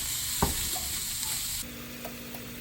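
Ground beef browns in a pan, a steady sizzle with a few sharp scrapes of a utensil stirring the meat, close and moderately loud, with no talk.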